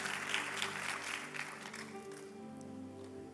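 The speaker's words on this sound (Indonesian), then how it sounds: "Kasih tepuk tangan yang luar biasa Bapak Ibu Saudara sekalian" Audience applause in a church service, a spread of overlapping claps that is strongest at the start and gradually thins out, with a sustained musical hum continuing underneath.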